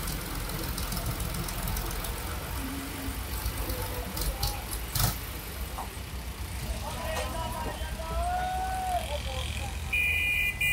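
A tractor towing a double trolley rumbles past on a road, with a steady, knocking engine drone under general outdoor noise and a few sharp transient clatters.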